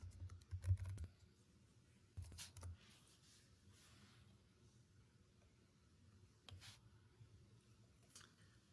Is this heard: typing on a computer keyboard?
yes